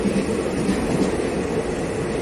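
The Chennai Egmore Express rolls along in a steady, loud rumble with a faint rhythmic rattle of wheels on track, heard up close without talk.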